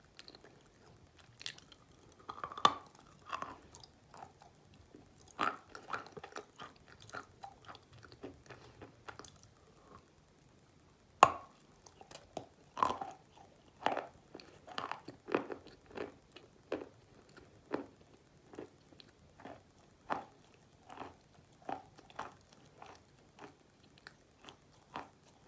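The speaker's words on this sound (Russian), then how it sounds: "Очень жирно во рту, тяжело жевать." Close, quiet mouth sounds of someone eating wet salted valuy mushrooms: soft bites, squishy chewing and occasional crunches repeat in an irregular rhythm, with no talking between them.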